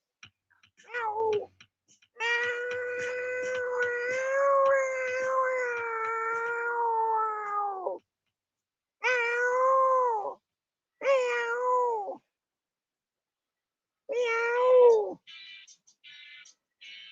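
A cat meows repeatedly and loudly up close, with one long drawn-out yowl followed by several shorter meows separated by pauses.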